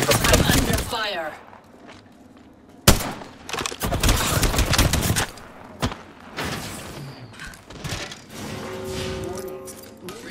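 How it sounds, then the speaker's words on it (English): Gunfire rattles through an Apex Legends match on Storm Point, with bursts of rapid automatic shots and single loud cracks spread across the fight, some close and heavy, mixed with thuds and in-game voices. "I'm under fire"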